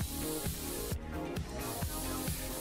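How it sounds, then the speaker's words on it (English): Compressed air sprays inside a PC case in PC Building Simulator, a rough continuous hiss broken by short rhythmic pulses and a brief pause midway, fairly faint. "Just spray a bunch of compressed air everywhere."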